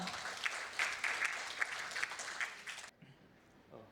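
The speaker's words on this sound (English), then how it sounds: "can we have a little huge round of applause of him?" Audience applause greets a speaker taking the stage at a corporate health-insurance presentation, a dense patter of claps for about three seconds that stops abruptly, leaving a quiet room.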